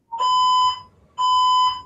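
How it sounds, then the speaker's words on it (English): Fire alarm sounding indoors in two loud, steady electronic beeps with a brief gap between them, close and dominant with no talk over it. "Is that fucking fire alarm?"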